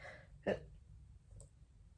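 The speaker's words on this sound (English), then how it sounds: "sorry, I got hiccup" A single sharp hiccup from a person mid-conversation, one short close burst in a quiet room followed by a faint breathy click.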